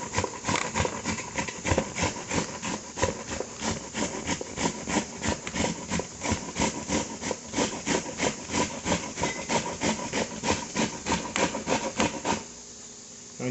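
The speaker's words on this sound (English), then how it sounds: "I got a lot more grating to do." Ingredients for a dumpling filling are grated by hand in a fast, steady rasping rhythm, each stroke scraping close and clear for about twelve seconds before stopping.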